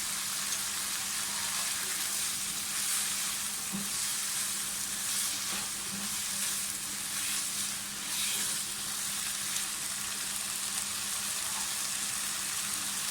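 Soy sauce added to chicken fried rice sizzling in a hot pan, producing a continuous loud hiss and crackle with faint stirring throughout.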